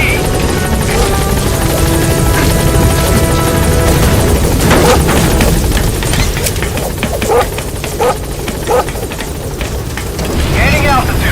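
B-Quad helicopter in Metal Gear Solid V: The Phantom Pain climbing away with a loud, steady rotor roar and dense thumping that fill the whole stretch, while game voices and effects sound over it.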